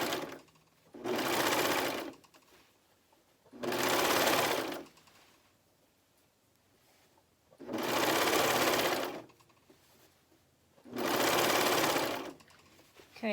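A coverstitch sewing machine hems a neckband in four steady, loud, close bursts of fast whirring stitching, each about a second long, separated by quiet pauses.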